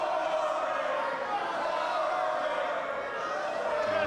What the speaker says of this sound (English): The crowd not too happy with Joey Matthews right now